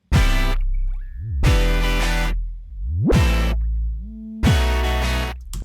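Layered electronic music with bursts of rich, buzzy synth chords separated by short gaps, deep bass notes, and pitch-bending tones sliding up and down.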